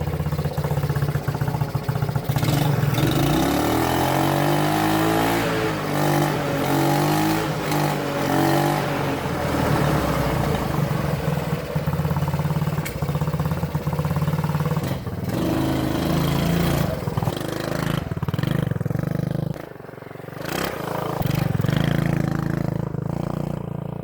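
A 1965 Honda Super Cub's small engine runs continuously, close and loud, with a steady idle that swells into several revs and then settles back, dipping briefly near the end before picking up again.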